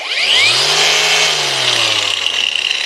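A Parkside angle grinder runs at maximum speed, a loud, steady high-pitched whine with a low motor hum, sustained and close for the whole span with no talking.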